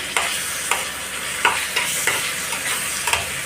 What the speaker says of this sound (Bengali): এবারে এইগুলো ভালো করে ভাজতে হবে